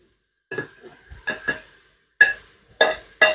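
A spoon stirs and scrapes a chorizo and chicken paella in a Cookeo multicooker, several separate scraping strokes with a faint sizzle between them, close and clear.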